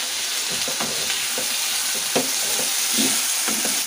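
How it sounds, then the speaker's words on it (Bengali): Potatoes fry in a pan with salt and turmeric, giving a steady, close sizzle with repeated scraping stir strokes throughout and no voices. "যাতে আলুটা ভাজা হয়ে যায়।"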